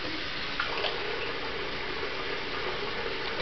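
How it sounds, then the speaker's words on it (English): Water runs steadily from a sink tap for a few seconds, a continuous mid-level wash of flow with faint splashes as hands bring water up to a face, no talking. "So I'm just putting water all over my face."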